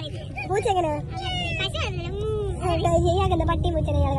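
A voice imitates a cat, giving a string of drawn-out, wavering meows close to the microphone, with faint background murmur.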